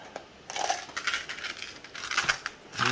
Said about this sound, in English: So we need to get Allen keys out.